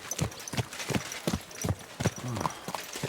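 Steady clip-clop of horse hooves from a character's mount in Kingdom Come Deliverance 2, regular paced strikes at moderate volume with a faint creak of tack, no talking.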